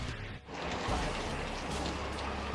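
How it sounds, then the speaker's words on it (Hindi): Hail and snow falling in the Champawat hills of Uttarakhand, a dense, steady pattering hiss that dips briefly early on and then continues evenly. "ये बर्फ ओले पड़ रहे हैं यहाँ पे बिल्कुल"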